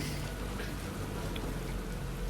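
Steady rain falls on a helipad platform in the video game Metal Gear Rising, a dense, even hiss of drops that continues unbroken and unchanging at moderate loudness throughout, with no voices over it.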